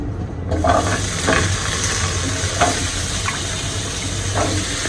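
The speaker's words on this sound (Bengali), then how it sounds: "এখন কাঁকরোল দিয়ে দিব কাঁকরোলগুলো ভাজবো কাঁকরোল আর সাথে আলু" Teasel gourd slices and potatoes dropped into hot oil, a loud sudden burst of sizzling that settles into a steady, dense frying hiss with occasional stirring, close by and without talk.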